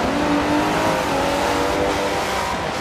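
Race cars roar around Watkins Glen in the Forza 7 racing game, including a Pagani Zonda C, a Corvette and a 599XX; a continuous, loud engine drone with shifting pitch and no talk.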